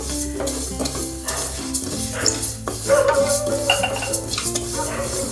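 Moong dal dry-roasts in a pan for ven pongal while a utensil stirs it, giving a close scraping rustle. Steady background music plays underneath.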